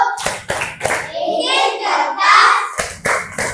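A class of children performs the 'tepuk fokus' clapping routine, with crisp, loud group claps at the start and end and children's chanting voices in between.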